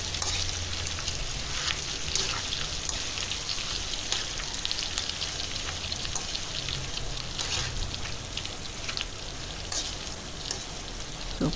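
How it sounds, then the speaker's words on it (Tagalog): Corned beef sizzles and crackles steadily in a hot pan while being stirred, a dense, continuous fry noise that stays loud and close throughout with no voices. "Halo lang po para hindi masunog ang ilalim."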